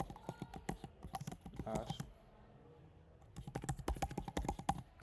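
Typing on a computer keyboard while writing Java code, quick bursts of close clicking keystrokes with a pause in the middle, someone speaking over parts of it.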